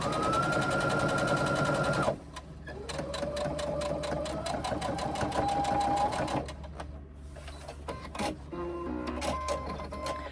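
A sewing machine bastes the side seam of a reversible tote at a 1/8 inch seam allowance, stitching close and steady in several runs broken by brief pauses.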